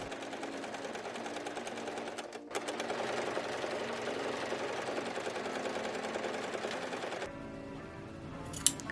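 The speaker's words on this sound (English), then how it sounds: "take the outer shell and the lining and turn them right sides together and then sew along" A sewing machine stitches the side seams of a dress, with the outer shell and lining sewn right sides together. It runs steadily and rapidly near the mic, stops briefly partway through, starts again, then stops before a short quiet ending.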